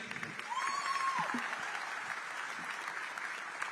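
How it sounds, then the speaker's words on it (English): A crowd applauds steadily throughout at a tech week event in Mumbai, with a brief whistle near the start rising over the clapping. "Round of applause, guys."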